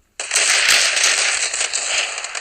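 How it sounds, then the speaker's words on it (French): Gunfire heard through a wall in the mobile shooter Standoff 2, a sudden loud burst of rapid crackling shots starting abruptly and sustained for about two seconds, harsh and close. "lui il tire à travers le mur"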